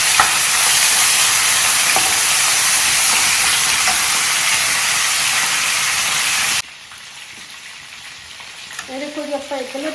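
Onions hitting roasted cumin in a hot pan set off a loud, dense frying hiss that runs steadily, then cuts off suddenly to a quiet background with faint stirring.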